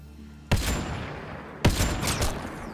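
Gunfire in the video game Mass Effect: Andromeda: two loud, sharp shots about a second apart, each followed by a ringing, echoing tail, over a low background hum.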